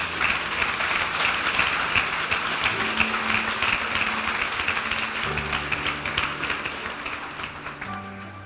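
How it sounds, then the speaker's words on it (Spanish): A church congregation applauds loudly, dense sustained clapping throughout that eases slightly toward the end, with faint voices underneath. "dale un aplauso fuerte a Jesús"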